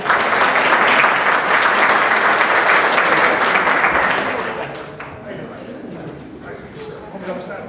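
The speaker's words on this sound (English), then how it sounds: "Give him a nice round of applause." A crowd at a magic show bursts into loud, dense applause that holds for about four seconds, then fades to lighter scattered clapping with faint voices underneath.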